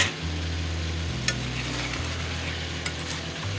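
Pre-fried, previously frozen okra and chillies going into a pan with chicken: a steady close-up frying hiss with stirring scrapes and a couple of brief clicks, over a low humming drone.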